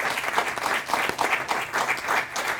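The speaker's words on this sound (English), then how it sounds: "good round of applause." Audience applause fills a town hall gathering, steady dense clapping from a crowd throughout, fairly close and even in level with no talk over it.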